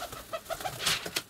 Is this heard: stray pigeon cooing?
yes